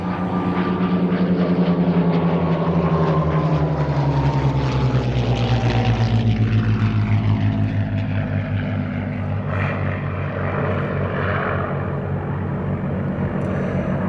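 A Hispano Suiza engined Messerschmitt 109 flies past at the Duxford Battle of Britain air show, its loud propeller engine droning steadily and sliding down in pitch as it passes, continuous and close.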